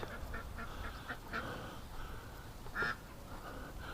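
Ducklings in a barn give a few short quacks scattered over a steady, low background hum, moderately near but not loud.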